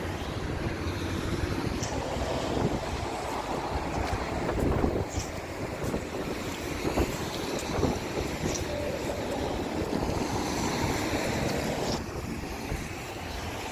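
Sea waves washing below a bridge that crosses the sea, a steady broadband wash mixed with wind buffeting the microphone, fairly faint and continuous with no talking.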